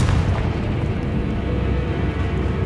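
A Confringo blasting spell exploding in Hogwarts Legacy, a loud, dense, rumbling boom that fills the whole moment with heavy low-end roar and crackle, with no speech.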